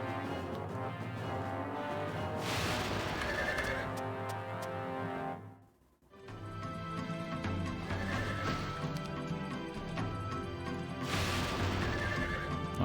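A horse neighs and whinnies repeatedly in the fantasy strategy game Heroes Chronicles, loud drawn-out cries recurring over a dense, continuous game soundscape that dips briefly to near silence midway before resuming, with no voices.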